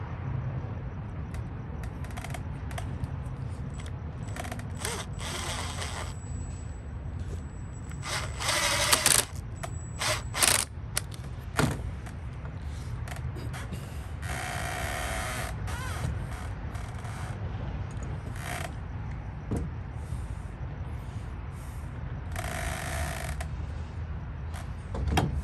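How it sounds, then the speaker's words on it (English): Screws are driven to mount a Lockly smart lock on a Ford F-350 truck-bed tiny house, heard as several separate bursts of power-driver whirring between stretches of quiet handling and clicks, close by. "now I just have to put those screws in here"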